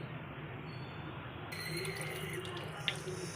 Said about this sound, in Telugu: సాల్ట్ యాడ్ చేసుకొని శుభ్రంగా కడుక్కుంటున్నాను